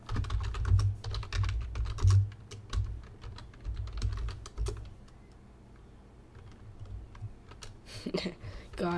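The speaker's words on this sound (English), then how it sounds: "God, I fail at typing fast." Rapid clicking keystrokes on a computer keyboard during Minecraft play, close and moderately loud in uneven bursts, pausing midway before resuming, with a voice briefly heard.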